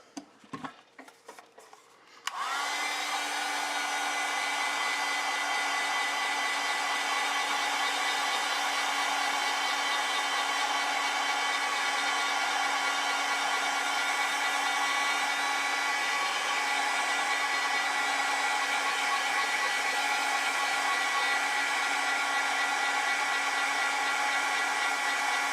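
A hair dryer runs steadily and loudly for about twenty-three seconds, drying acrylic paint on a painted-over magazine face. A few brief clicks and knocks come first, just before the motor starts.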